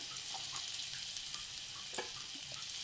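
Chopped ginger frying in butter with garlic in a pan, a quiet continuous sizzle with a few small pops and faint stirring, close by, no one speaking.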